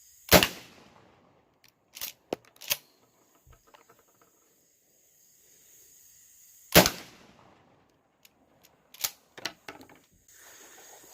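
Remington 12 gauge 00 buckshot shotgun shells fired outdoors at long range, with several sharp, loud blasts spaced apart, including a close pair near the start and a pair later on, and quiet gaps between them.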